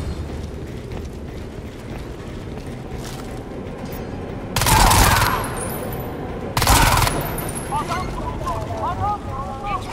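Gunfire in Crysis 2 Remastered: two loud broadband bursts of shooting cut through a constant rumbling game ambience, with a voice talking over the scene.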